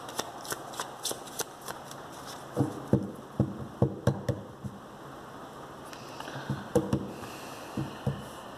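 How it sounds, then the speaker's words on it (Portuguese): Heavy rain in São Paulo comes through as an irregular patter of sharp drips and taps, close by and fairly faint, some landing in quick clusters against a soft steady wash. "Muita chuva aqui em São Paulo."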